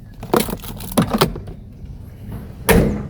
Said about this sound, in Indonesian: Suara nutup pintunya renyah sekali ya Suzuki Katana itu.